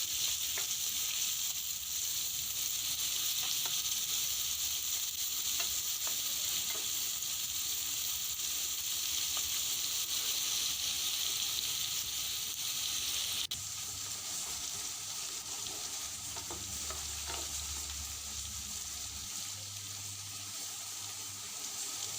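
Chopped onions sizzle in hot oil with hing, a steady bright frying hiss that runs close and even throughout, with a slight shift in tone partway through and a few faint stirring clinks.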